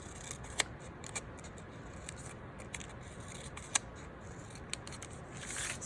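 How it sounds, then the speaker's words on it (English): Scissors snip through paper as a leaf shape is cut out, giving a series of short crisp snips at irregular intervals. The cutting is close and fairly quiet, with no talking. "I'll go ahead and make some cuts on my leaf here."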